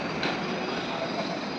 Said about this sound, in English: Korba to Thiruvananthapuram North Superfast Express. Arrived to Chenganur Railway Station, platform number 1.